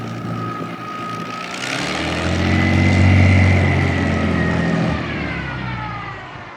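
A vintage military aircraft's piston engine runs at the Military Aviation Museum in Virginia Beach, a loud, close, steady propeller drone that swells to a peak midway and then eases slightly, with no voices over it.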